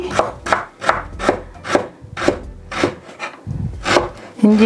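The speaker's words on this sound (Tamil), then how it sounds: "நான் ஓரளவு சின்ன சின்ன துண்டுகளாக வெட்டி இருக்கிறேன்" Rapid, steady knife chops on a board, about a dozen crisp strikes close by, as ginger is cut into small pieces, with no talking.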